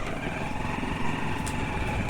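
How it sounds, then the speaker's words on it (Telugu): A steady engine drone of a motorcycle on the move, continuous and fairly loud throughout with no talking. "అలా బైక్ మీద పెట్టుకొని ఇట్లా వెళ్తున్నా"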